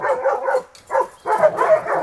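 Several dogs in a kennel bark and bay close by in rapid overlapping volleys, with a brief gap before the loud barking resumes.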